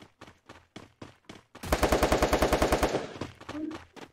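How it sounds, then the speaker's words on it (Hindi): Sustained automatic gunfire from the Free Fire battle-royale game, a rapid loud burst of evenly spaced shots lasting over a second, with scattered single shots before it. "गोलियां पे गोलियां ही चली जा रही है"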